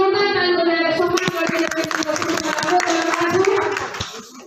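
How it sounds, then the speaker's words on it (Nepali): An audience claps in honour of the founder at a health awareness programme in Devdaha, Rupandehi, with steady dense applause lasting several seconds under a continuous amplified voice and musical tones before fading. "उहाँलाई जोरदार ताली बजाएर सम्मान"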